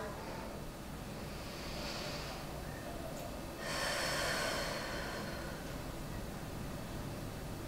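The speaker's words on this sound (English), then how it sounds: "Inhaling in through the nose really deep. Exhale through the mouth." During a beginner yoga session, a person draws a slow, deep breath in through the nose and then lets a longer, airy exhale out through the mouth, close and soft over faint background hiss.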